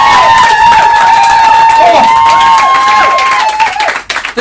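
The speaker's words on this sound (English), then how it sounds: "A big round of applause for Cassie Hugel, please!" An audience applauds and cheers for a scientist being introduced at a live event, with loud, dense clapping and whistles and shouts throughout before it thins near the end.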